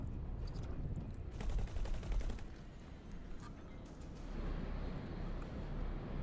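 Rapid bursts of spaceship weapon fire in X4: Foundations, a series of quick repeated shots in the first half, then a lower rumbling wash of combat noise.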